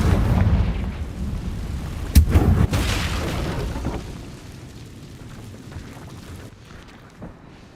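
Confringo fire spell blast in the video game Hogwarts Legacy, a sudden deep boom with a rumbling tail that fades slowly over a low background din.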